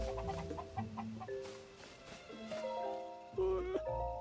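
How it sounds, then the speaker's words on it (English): Chickens cluck in a Zelda video game, several short clucks and squawks set against steady tonal background music. "What are you chickens doing?"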